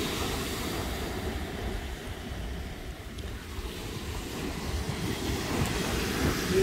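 Ocean waves on a beach in the USA, a steady broad rushing wash of surf, fairly loud and continuous with slight swells in intensity, no voices.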